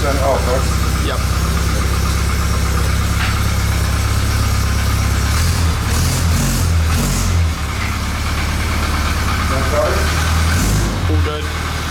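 A classic Mini, just back from crash repairs, runs with quite a bit of choke on, its engine idling steadily up close with a few rev changes while people talk over it.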